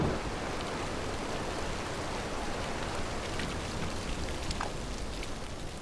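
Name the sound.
torrential rain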